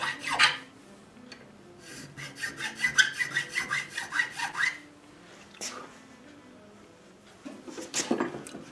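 Rhythmic rasping strokes of a file cutting string slots into a classical guitar nut come in quick bursts with short pauses between, close and clear, with no voices.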